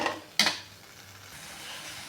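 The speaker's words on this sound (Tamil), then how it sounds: "இப்போ நல்லா கிளறிக்கலாங்க." A ladle or spoon scrapes and clinks once against a pot of boiling tamarind water, followed by a soft bubbling simmer, close and quiet with no talking.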